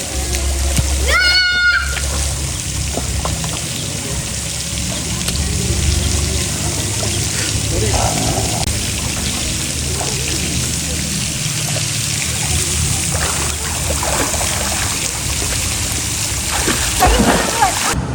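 A child pours and splashes water to make pretend rain at a campsite at the foot of Gunung Pulai, Johor, giving a steady splatter and trickle throughout, with a brief squeal early on and faint voices in the background.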